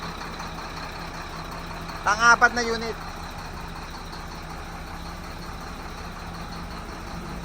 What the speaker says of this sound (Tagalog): Yung dump truck Howo mo.